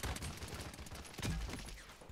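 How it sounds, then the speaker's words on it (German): Paladins video game shooting: a right-click blue damage shot with a wide area of effect, heard as a rapid, noisy burst of fire that swells briefly, fairly quiet, with no voices over it. "Mit der rechten Maustaste habe ich so einen blauen Schuss, so einen normalen Schuss, Schadensschuss"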